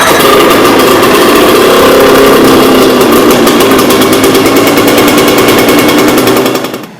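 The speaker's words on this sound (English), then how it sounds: "Pull that up. High idle. Push in on this. Or choke. Start it." Outboard motor of a boat running steadily at high idle after starting, a loud, continuous buzzing drone with a fast rhythmic pulse that holds for about six seconds before cutting off at the end.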